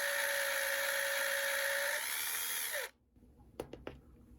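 A power drill spins a larger bit to countersink a screw hole in an HO scale steam locomotive kit frame, running at a steady high whine close by, then winding down and stopping, followed by a few small clicks.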